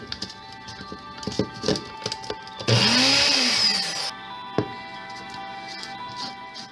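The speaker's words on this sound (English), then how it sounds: "I start off my dish by mincing fresh garlic" Knife mincing fresh garlic on a board, a series of light, close taps and clicks at an uneven pace, broken in the middle by a loud whirring burst of about a second and a half.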